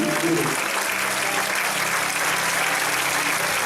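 A church congregation claps and applauds steadily for a few seconds, a continuous dense patter of many hands.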